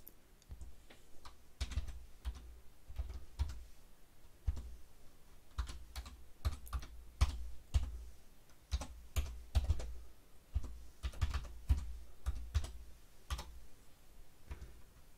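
Computer keyboard typing while filling fields in Exocad dental CAD/CAM software: irregular bursts of close, crisp key clicks with short pauses between words, heard alone with no talking.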